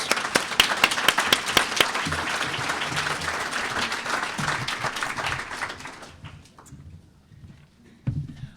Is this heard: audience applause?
yes